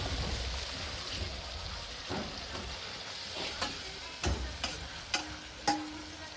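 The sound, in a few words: goat meat frying in a pan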